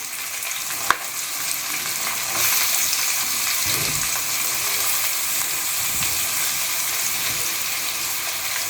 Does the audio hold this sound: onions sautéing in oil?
yes